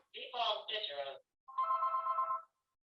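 A telephone rings in two electronic bursts with a short gap between them, loud and close, during a historical commission meeting.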